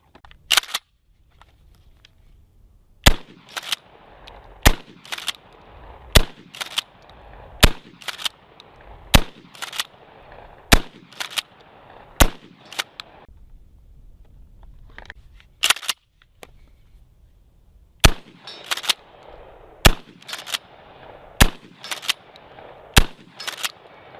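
A KSG pump shotgun fires buckshot and slug rounds in a long string of loud, sharp blasts, some spaced evenly and others in quick pairs, each cracking out alone with a short decay and nobody talking.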